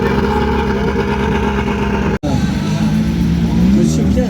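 Rally car engine at the start of a special stage near Saint-Émilion, a steady loud idle and rumble that cuts out briefly before revving and pulling away, with people talking over it.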